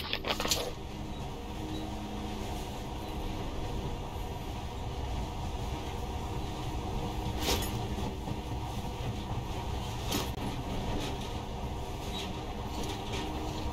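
Monorail train running in the video game Metro: Last Light, a steady rumbling rail drone with a few sharp metallic clanks, heard alone at moderate volume.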